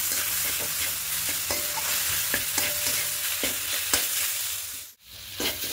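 Fish and potato pieces are stirred together in a hot frying pan for a fish fry, a steady sizzle running under repeated scraping strokes of a spatula, with a brief lull near the end.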